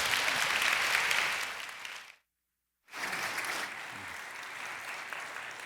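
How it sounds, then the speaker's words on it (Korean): A church congregation at a dawn prayer meeting applauds to welcome a guest speaker. Dense clapping cuts off into a short stretch of dead silence, then resumes and gradually thins and softens. "박수로 우리 환영하겠습니다."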